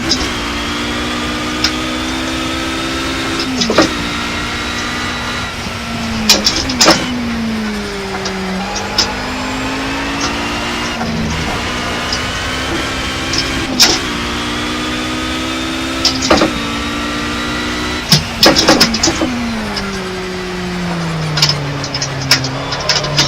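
Racing-game engine drone from a race car in Project Cars, loud and constant, with tones rising through the gears and falling under braking, punctuated by sharp clicks and knocks.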